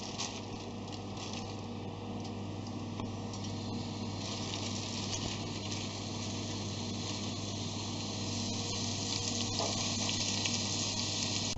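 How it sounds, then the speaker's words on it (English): Braising steak sears in a hot pan with a faint, steady hiss that holds at an even level throughout, with no voices. "Now we sear the braising steak."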